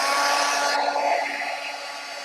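A heat tool blowing hot air onto ExpandIT craft material, a steady close whooshing hum that shifts in tone partway through and eases slightly toward the end, with no talking.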